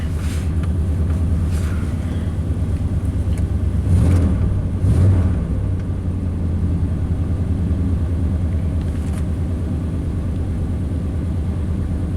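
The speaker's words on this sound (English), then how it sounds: "Alright, it's fired up." A 1988 Chevy K1500 pickup engine, which has a stumble and power-loss problem when cold, idles steadily after starting with a constant low rumble, swelling briefly twice near the middle.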